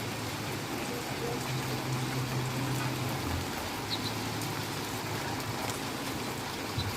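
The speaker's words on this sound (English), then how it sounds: "Still getting a lot of rain" Heavy rain from Typhoon Noru (Karding) in Barrio Barretto, Zambales, Philippines, a dense, steady hiss of rainfall with a low rumble underneath that holds constant throughout, with no talk.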